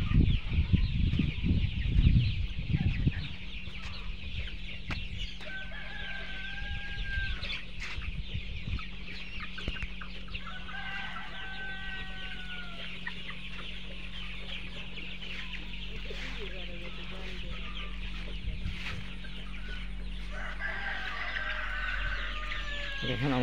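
Chickens cluck and call on a crowded poultry farm, with repeated short calls rising over a low steady hum, and louder rustling and handling noises near the start.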